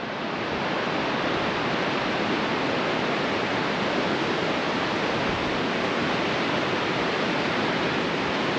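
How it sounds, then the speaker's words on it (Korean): A cool mountain stream in Kings Canyon National Park rushes steadily below a rocky peak, a constant, dense, close roar of flowing water with no pauses. "이 밑에 정말 시원한 그런 계곡물이 흐르고 있어요"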